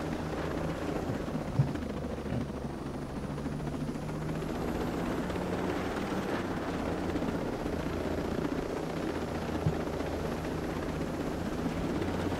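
A helicopter flies overhead outdoors, its rotor and engine a steady, loud rumbling drone that holds constant throughout without fading or breaks.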